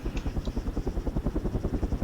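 A video-game helicopter in a hostage scenario pounds out a fast, even rotor chop that sounds close and moderately loud, with no speech over it.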